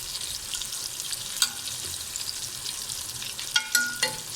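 Bitter gourds stuffed with chana dal frying in a pan, a continuous close hiss of oil with a few sharp crackles and metallic clinks as the pieces are turned.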